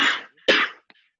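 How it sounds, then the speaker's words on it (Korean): Two short, sharp coughs close by, followed by a faint little throat sound. "기침한다."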